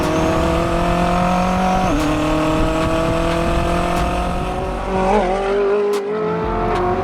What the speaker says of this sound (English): That 5-litre twin turbo V8 just singing to me.